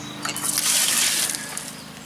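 Clear faucet water pours into a nearly full bucket set up for electrolysis rust removal, a close, steady hissing splash that swells and then eases slightly.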